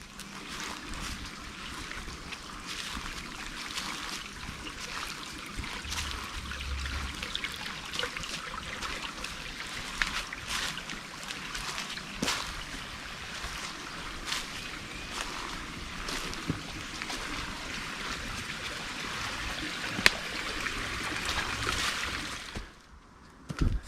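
A natural stream of spring floodwater flows steadily through trees, a continuous broadband wash with occasional clicks and gusts of wind noise, no voices.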